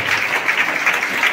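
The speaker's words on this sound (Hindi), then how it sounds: "तालियां बजती रहनी चाहिए।" Steady audience clapping at a school prize distribution ceremony, moderately loud and continuous for a brief moment.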